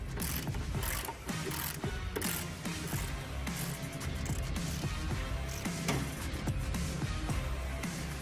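A ratchet wrench loosens a car's brake caliper bolt, giving steady rapid clicking at close range that runs throughout with no pauses and no talking.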